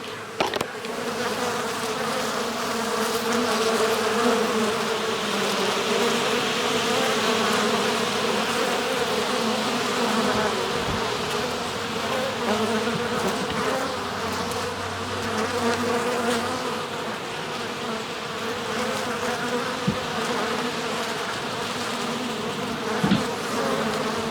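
Bees hum in a dense, continuous drone close by, steady for the whole stretch with no voices.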